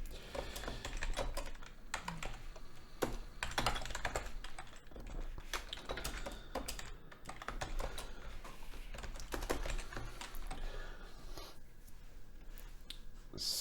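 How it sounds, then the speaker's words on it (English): Code being typed on a computer keyboard while writing a Unity 5 script: steady, fairly quiet, close keystrokes in rapid irregular runs with short pauses in between. "Let me just type it out first, the first line"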